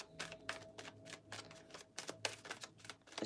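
Tarot cards are shuffled in quick, papery riffling bursts, a steady run of soft flicks and taps up close.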